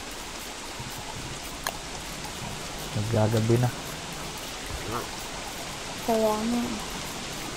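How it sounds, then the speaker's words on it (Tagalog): Steady rain falls in the video game Don't Starve Together, a constant hiss that continues under two brief bursts of nearby talk. "Pwedeng tumigil na yung ulan."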